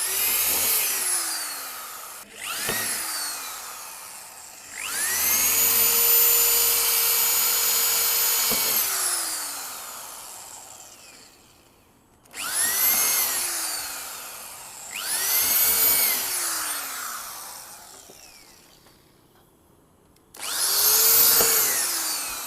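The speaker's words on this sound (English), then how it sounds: "Right now I'm drilling screws into the base." A cordless power drill drives screws into the pallet-wood base of a DIY table, running in several loud, close whining bursts of a few seconds each, separated by short pauses, with no voices.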